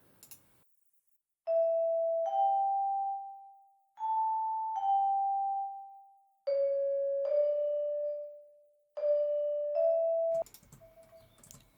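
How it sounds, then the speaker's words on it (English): Four reverberant vibraphone hits, each a pair of mellow tones, are looped, warped and faded in a slow even rhythm, each ringing out with a long decay, followed by a brief noisy tail. "Then I have these vibraphone hits, which are also present in the main section."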